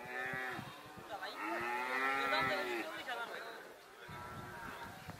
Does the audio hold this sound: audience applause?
no